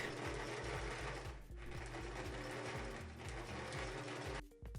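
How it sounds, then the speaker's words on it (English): Sewing machine stitching an edge-binding seam onto the sleeve of a jacket made from a quilted comforter, running in a fast, even mechanical chatter that pauses briefly midway and stops near the end. "To attach the edge binding to the sleeve, I sewed a seam 1/4 inch from the edge of the fabric."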